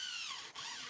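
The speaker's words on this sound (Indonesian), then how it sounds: "Lalu kita gunakan mata bor hollow. Lalu kita akan borkan di bagian batok kelapanya." A power drill fitted with a hollow bit whines into a coconut shell, a close, high-pitched grinding drone that sags briefly midway as the bit bites, then picks back up, with no speech.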